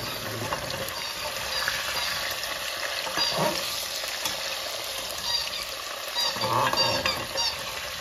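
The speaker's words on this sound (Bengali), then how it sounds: "এবার আলুগুলো ভাজব।" Potatoes frying in a pan during home cooking of a Bengali meal, a steady close sizzle with occasional louder crackles and stirring scrapes, no one talking.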